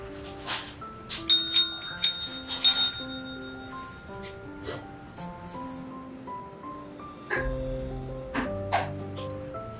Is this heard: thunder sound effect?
no